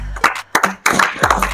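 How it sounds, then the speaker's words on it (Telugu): Hand clapping during a round of funny party games: a handful of sharp, loud claps in uneven, loose rhythm with short gaps between them. "క్లాప్స్ కొట్టు అన్న, క్లాప్స్ కొట్టు"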